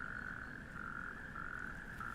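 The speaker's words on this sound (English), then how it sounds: "A couple of natterjack toads." Natterjack toads call through a mild spring night at an abandoned industrial junkyard, a continuous rasping trill holding steady and fairly loud for the whole stretch, with no voices.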